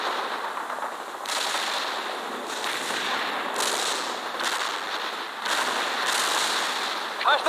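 Repeated muffled mortar blasts in the real-time strategy game World in Conflict, Soviet assault on insurgents, arriving every second or so in a steady series over a rumbling battlefield background.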